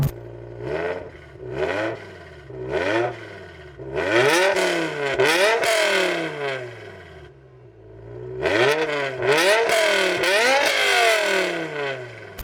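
A Ferrari 599 GTB fitted with an aftermarket exhaust revs repeatedly, each blip sweeping up and falling back, starting with short stabs and building to longer, louder, raspy pulls at close range, with no talking over it.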